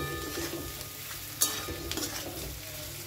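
Fried cauliflower for chilli gobi is stirred in a sizzling pan over a medium flame, a soft steady fry with scraping strokes and a couple of sharper spatula knocks.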